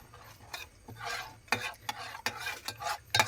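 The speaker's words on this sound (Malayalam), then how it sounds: "നമ്മൾ ശരിക്കും ഒന്ന് മിക്സ് ചെയ്യാം." A spoon stirs sweet corn soup mix into water in a pot, giving a run of close scraping, swishing strokes in an uneven rhythm with sharp clinks against the pot, and no talking.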